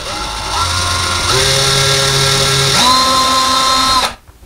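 A power drill bores a hole into drywall while probing for a stud, whining steadily for about four seconds and shifting pitch twice before cutting off abruptly; loud, close and free of talk.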